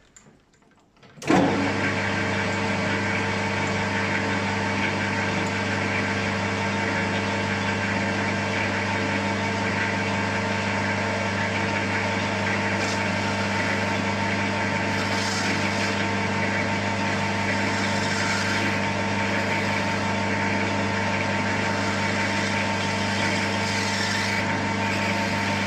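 Metal lathe facing off the end of a part for a 2-inch Fowler Showman's traction engine model, starting up abruptly and then running with a steady motor hum and a continuous cutting whine.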